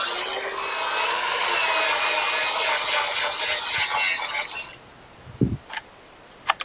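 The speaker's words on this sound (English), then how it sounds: "now I can sand it down without moving material" Power sanding of a raised ridge on a steel track pad from a Tigercat forestry machine, a loud steady abrasive grinding for about five seconds that then stops, followed by a few brief knocks.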